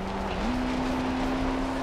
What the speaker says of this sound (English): my car does not sound good.